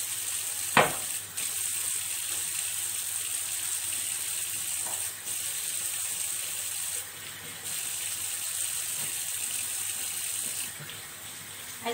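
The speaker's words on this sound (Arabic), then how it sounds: "وهنجيب النضيفه دي نغسل بقى الكوبايه" Glass cup being washed with a clean sponge at a kitchen sink, with steady running tap water throughout and soft scrubbing and clinking sounds layered on top, fairly close and continuous with no talking.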